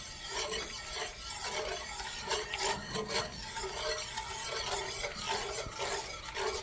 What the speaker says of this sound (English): We're going to go ahead and get a whisk, or, for those who know about it, you can use your fork.